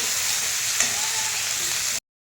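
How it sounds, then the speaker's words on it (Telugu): Sliced onions frying gently in a pan, giving a steady, close hiss of sizzling oil with one small clack partway through, then cut off abruptly. "ఇవి కొంచెం నార్మల్గా వేగాలండి"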